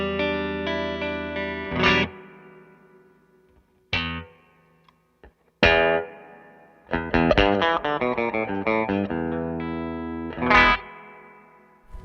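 An electric guitar played through an Anasounds Elements spring reverb pedal with every knob at noon: plucked notes and chords ring out in separate bursts with short springy tails and brief silences between them, clear and up front, with no voices.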